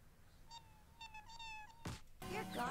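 A cat in the game WarioWare meows in a few short, clear, rising calls, fairly close, followed by a brief noisy burst and a busier jingle of game sounds.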